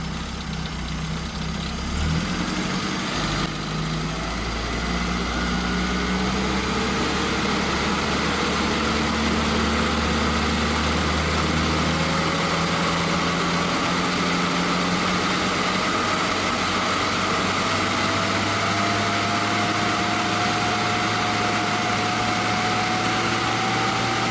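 A car engine, tested with its engine breathers connected, runs steadily and then climbs through held rev levels. Its tone rises gradually and stays loud and continuous throughout, with no voices.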